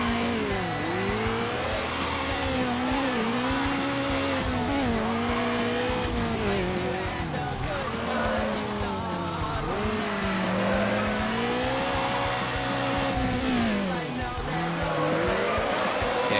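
Car engine revving in sweeping waves with squealing tires while drifting in Need for Speed Underground, a continuous loud drone that rises and falls through each slide, with a voice talking over it.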